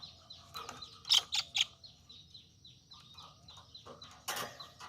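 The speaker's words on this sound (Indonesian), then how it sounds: "Jadi saya akan lepas burung tengkek ini di tempat yang benar-benar aman." A small tengkek udang kingfisher held before release gives a few sharp, bright calls in a quick cluster, then sparser chirps against faint outdoor background, fairly close and moderately loud.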